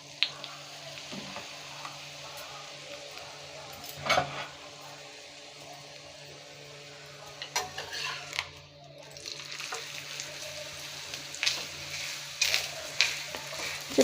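A coconut sweet paratha fries in oil on a flat griddle, giving a steady low sizzle with occasional stirring and pressing noises, soft and close with no talk.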